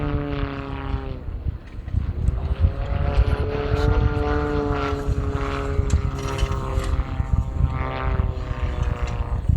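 Large model aircraft flying aerobatics at an air festival, a propeller engine droning loudly as it climbs, dives and turns, its pitch swinging up and down with each manoeuvre.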